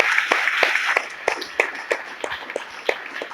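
Church congregation clapping for the Lord, a loose, sparse patter of individual hand claps at moderate distance with no voices over it.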